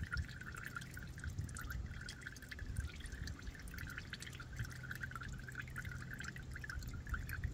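Used engine oil from a 1998 Dodge Grand Caravan SE is poured back into its jugs, a faint continuous trickling and dribbling with no talking.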